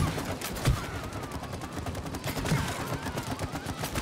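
Video game gunfire from It Takes Two, a fast continuous stream of rapid shots with a couple of heavier impacts, steady and fairly loud over game sounds.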